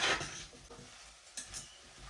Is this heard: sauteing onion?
yes